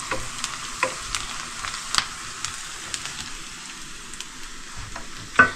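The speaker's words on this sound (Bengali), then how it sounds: "এটা পেঁয়াজ ভাজা হচ্ছে, হালকা ভাজা হয়ে গেলে এরপর আমি আলুটা দিয়ে দেবো।" Onions fry in a pan on a camp stove during a road trip in Ladakh, a soft, steady sizzle broken by occasional sharp crackles and stirring scrapes, heard up close with no voices.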